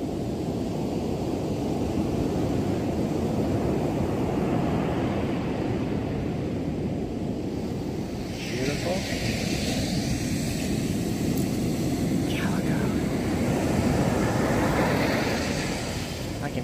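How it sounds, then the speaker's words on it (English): Steady roar of rough surf washing over a large shell pile on a beach at Singer Island, southeast Florida, with a faint rattling clatter of shells tumbling in the surge, continuous throughout. "hear the shells and the waves"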